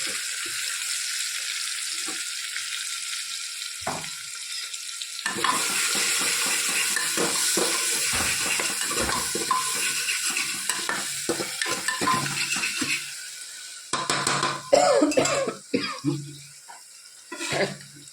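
Chili masala, garlic, tomatoes and green chilies cook in an oiled pan with a steady loud sizzle, broken by scraping and stirring and a clatter of utensils toward the end.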